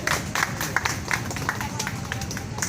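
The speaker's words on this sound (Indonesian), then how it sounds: "Cukup, berikan tepuk tangannya." Audience applause at the soft launch of the DAMRI Jakarta Residence Connexion bus service: a steady wash of many hands clapping together, with louder bursts throughout, fairly close and without a break.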